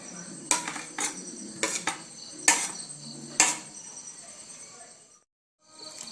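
A metal spoon clinks and scrapes against a bowl while vada batter is mixed with salt, curry leaves and asafoetida, sharp irregular knocks close by, then a brief silence before the stirring resumes.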